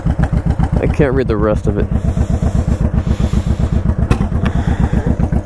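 A motorcycle fitted with ape hanger handlebars runs at a steady, rhythmic idle, its engine pulsing close and loud throughout, while someone talks over it.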